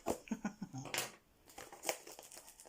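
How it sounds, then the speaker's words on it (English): Nail scissors snip and crinkle through cellophane wrapping on a diamond painting kit, giving a few close, sharp crackles and rustles over under three seconds, with a brief louder crunch near the middle. "we've got some cellophane around this one. So use my super duper nail scissors."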